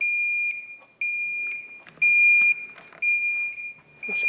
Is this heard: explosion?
no